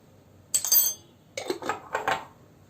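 A spoon mixes ground sweet paprika, black pepper and other spices in a dish for an oven chicken chop sauce, producing short bursts of clinking and scraping against the dish, separated by silence.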